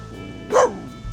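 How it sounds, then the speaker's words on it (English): A single short, sharp dog bark rings out close by against quiet background noise. "As you can hear her barking"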